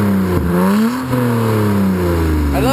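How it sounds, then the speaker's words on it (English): A BMW 135i with an HPF prototype exhaust revs up, its engine note climbing and falling in a sustained, loud, close rise, with a fresh rev starting near the end. "can you just rev it up a little bit?"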